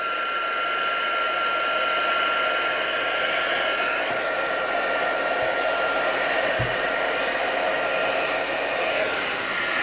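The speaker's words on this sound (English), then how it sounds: "I'm just going to heat this up, and then we're going to heat set that" A heat tool blows steadily for the whole stretch while heat-setting embossing on a handmade stamped card, a constant loud whooshing hiss with no pauses and no talk.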